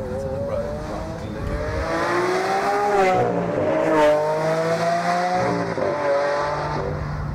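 A Lamborghini Aventador, a four-wheel-drive supercar, drives hard with a loud sustained engine note that climbs and shifts pitch throughout, staying strong and close from start to finish, with a voice briefly speaking over it.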